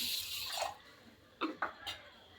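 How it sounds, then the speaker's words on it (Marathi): Water poured over sugar in a pan for baklava syrup, a few short splashy pours and drips, faint and close, separated by brief quiet gaps. "आणि त्यामध्ये पाणी ओतायचं आपल्याला."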